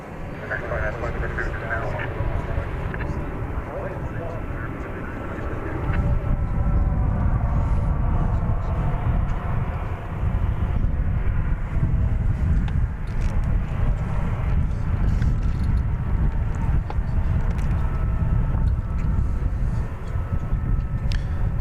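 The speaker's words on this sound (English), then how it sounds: "Looks like flight 2205 to San Antonio, Texas, an Airbus" An Airbus A321 jet departing DFW for San Antonio in a crosswind produces a steady, loud engine rumble that strengthens after a few seconds, with a person talking over it.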